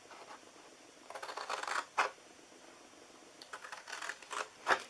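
Scissors snip through paper for a homemade treat box, several close, crisp cutting strokes in short bursts with quiet pauses between them.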